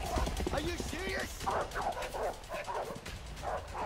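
Dogs bark and yip in A Way Out during a chase, several sharp barks and whines in quick bursts, mixed with excited talk from players.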